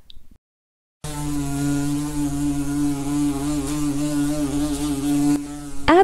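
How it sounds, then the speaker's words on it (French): A bee buzzes in a steady, loud drone close by, holding an even hum for about five seconds after a short silence before it cuts off. "Abeille."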